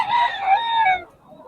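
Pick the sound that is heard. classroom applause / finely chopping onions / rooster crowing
rooster crowing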